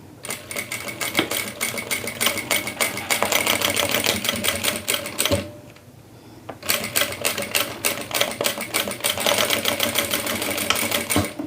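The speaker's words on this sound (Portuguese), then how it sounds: "Passa uma costura primeiro. Passa uma costura aqui." Sewing machine stitching a seam on a clear transparent pouch, a loud rapid mechanical chatter that runs steadily, pauses briefly for about a second midway, then resumes at the same fast pace.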